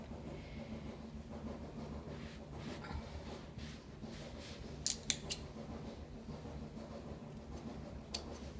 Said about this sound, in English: And just cut it right down the center.